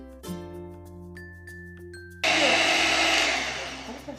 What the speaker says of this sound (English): The mixer.